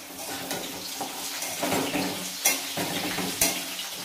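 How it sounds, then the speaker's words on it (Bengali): Potatoes fry in a pan ahead of a fish curry, with a bubbling sizzle broken by stirring and several sharp utensil clinks and scrapes close by, and no talking. "এবার আমি আলুগুলোকে ভেজে নিচ্ছি মাছের আলুগুলো"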